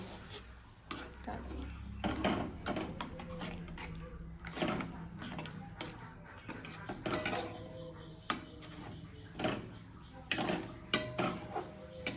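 Rui fish kalia, a Bengali fish curry, is stirred in a metal cooking pot with a utensil: repeated close scraping and knocking strokes in an irregular rhythm over a soft sizzle.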